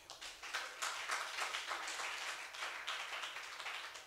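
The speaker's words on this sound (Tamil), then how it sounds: "கைத்தட்டு." A church congregation claps in a steady, lively rhythm for several seconds, many hands blending into a bright, continuous patter of applause.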